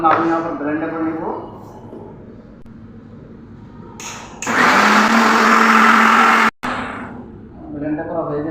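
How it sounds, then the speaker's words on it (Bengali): Someone speaks, then a kitchen blender grinds a chutney of onion, dried chillies, garlic, tomato and salt in a loud, steady whir for about two seconds, stops sharply, and her talking resumes. "এখন আমি আবার ব্লেন্ডার করে নেব।"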